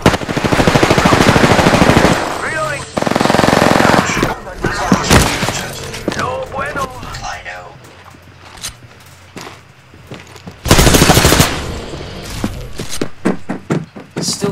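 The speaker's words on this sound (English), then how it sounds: "Firing at me." Loud, close machine-gun bursts and single shots in Apex Legends, with heavy rapid fire early on, quieter shots through the middle and another sharp burst near the end, while players talk over the action.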